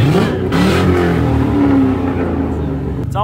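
A car engine revs hard and loud, close by, holding a steady high-pitched roar for about three seconds, compared to a Mazda Miata; voices are faint underneath.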